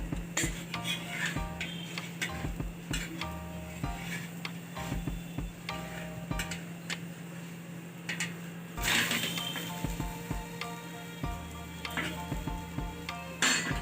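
A mirchicha pola, a chili pancake, roasts on a hot pan and gives a steady low sizzle, broken by scrapes and taps from a spatula as it is turned over, with no voices.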